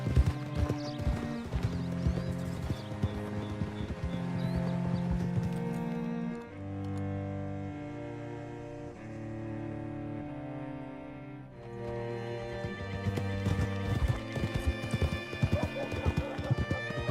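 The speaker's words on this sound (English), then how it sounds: "Hitch your horse up here." Horses in the Red Dead Redemption 2 video game clip-clop steadily at close range, with a neigh heard among the hoofbeats and game music playing under them.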